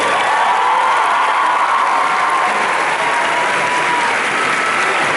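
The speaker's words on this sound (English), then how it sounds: "let's have a round of applause for this incredible group" Sustained applause from a large convention panel audience at San Diego Comic-Con, a dense wash of clapping with a few faint cheers, steady and loud throughout without letup.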